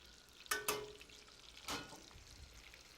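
Shrimp frying in oil, shaken in the pan, a faint low sizzle cut by a couple of quick metallic clinks and one further scrape as the pan is moved.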